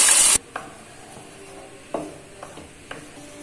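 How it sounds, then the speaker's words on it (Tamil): Badam halwa mixture of ground almonds being stirred in melted ghee in a pan, a loud sizzling burst at first, then quiet scraping strokes of the spoon against the pan at irregular intervals. "நம்ம ஸ்டிர் பண்ணி விட்டுட்டே இருக்கலாம், கிண்டி விட்டுட்டே இருக்கலாம்"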